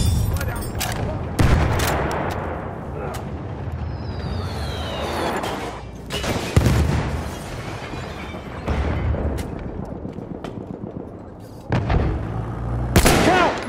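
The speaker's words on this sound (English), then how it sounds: "Machine gun!" Bursts of machine gun fire and scattered gunshots in a World War battlefield video game, several sharp volleys with booms across the fight, fairly loud and close, with a voice calling out briefly.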